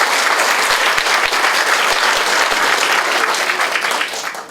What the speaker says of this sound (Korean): 우선 강연 잘 들으셨다는 의미로 박수 한번 크게.